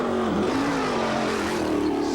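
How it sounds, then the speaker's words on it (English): A 1997 Indianapolis 500 IndyCar idles at high revs during a pit stop, its engine holding a loud, steady drone with a slight dip in pitch, and commentary is heard over it. "You can hear they're keeping the motor revved up."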